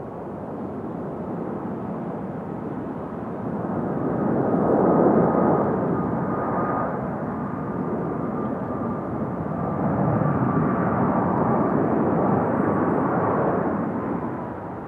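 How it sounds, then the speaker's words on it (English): A Boeing 737 MAX 8 from Chicago lands at Raleigh-Durham International, its jet engines a loud, continuous broadband roar that swells twice as it passes, with no talk. "We'll go to our 737 from Chicago for that touchdown."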